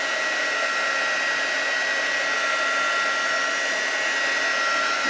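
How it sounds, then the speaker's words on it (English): A craft heat tool blows steadily while drying distress inks, a constant loud airy whir with no pauses from start to finish. "As I said, you just keep drying it with your heat tool."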